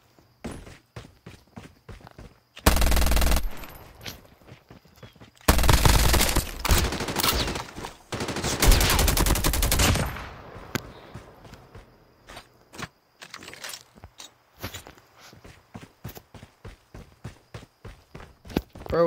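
SMG and LMG gunfire in the video game Call of Duty: Mobile, with two loud sustained bursts of rapid automatic fire between stretches of quick rhythmic footsteps and scattered single shots, no talking.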